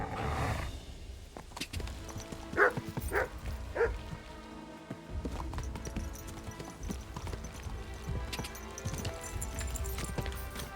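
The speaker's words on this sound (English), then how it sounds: "There's a bunch of abandoned dogs." Abandoned dogs bark in a medieval town in Kingdom Come: Deliverance II, a few short barks in the early seconds over steady horse hooves clopping close by.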